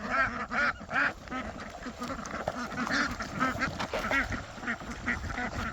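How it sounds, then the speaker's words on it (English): Cayuga ducks being herded uphill toward a full pond on a small homestead, quacking repeatedly and close by in busy overlapping bursts. "Oh, there you go, ducks."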